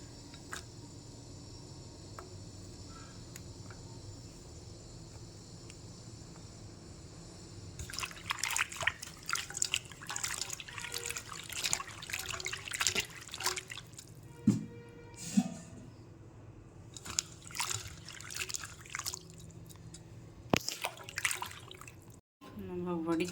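Cut papaya slices are swished and rinsed in water, giving intermittent splashing, trickling and squishing sounds at close range, quiet overall.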